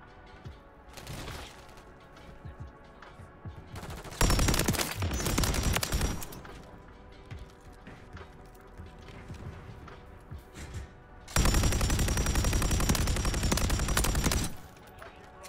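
PULEMYOT 762 machine gun firing in Modern Warfare III, with two long, loud sustained bursts set against quieter in-game ambience and scattered distant shots, with a voice talking in between.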